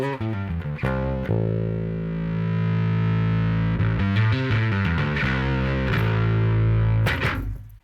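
Bass guitar through a heavily distorted Darkglass bass amp head, a few plucked notes and then sustained gritty chords ringing out, loud and close with no talking.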